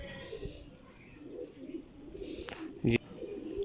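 Soft, low cooing from a Ram Puri pigeon murmurs steadily in the background, with a brief louder knock or rustle near the end.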